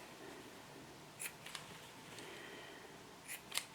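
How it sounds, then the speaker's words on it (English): Small scissors snip off the corners of a sewn fabric piece, giving a few faint, crisp clicks at irregular intervals against a quiet, hissy room. "I do need to trim the corners."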